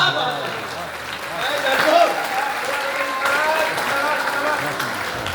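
Audience applause at a poetry recital rolls steadily throughout, a continuous wash of many hands clapping at moderate loudness, with a voice speaking over the crowd.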